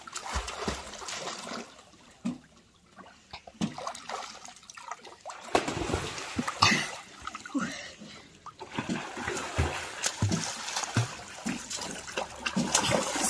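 Water splashes and runs in bursts, much like a shower in a home bathroom, with a steadier stream in the later seconds and some talk faintly underneath.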